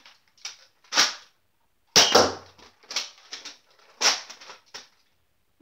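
Several sharp snapping pops of a Nerf blaster firing foam darts at a target, spaced out irregularly in short bursts with quick rattling follow-ups, close by.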